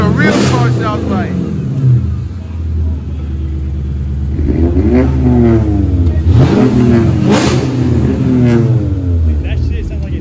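A 2018 Honda Civic hatchback with a catted downpipe, muffler delete and resonator delete revs from a cold start, giving loud, raspy bursts that rise and fall over a rough idle rumble while people talk nearby.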